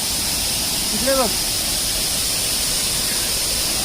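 Water rushes and flows steadily in a continuous broadband roar, with a brief faint voice-like sound partway through.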